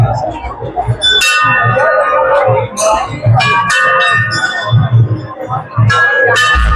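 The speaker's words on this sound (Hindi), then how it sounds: "घंटी है।" Repeated metallic temple bell strikes ring out with shimmering overtones amid a crowd's chatter and nearby voices, the clangs coming irregularly one after another, at Bhuteshwar Dham Hindu temple on the last Monday of Sawan.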